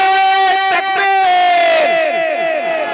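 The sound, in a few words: crowd shouting a Takbir slogan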